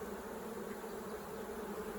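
Honey bees swarm and buzz around an open beehive, a dense, steady drone that fills the whole stretch without pause and stays close and even in loudness.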